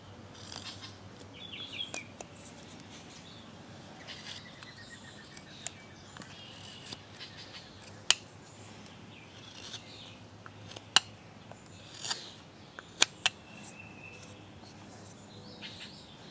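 A wood carving knife makes scoop cuts around the brow ridge of a carved face, producing faint, scattered scraping clicks and sharp little snicks at irregular intervals against a quiet background.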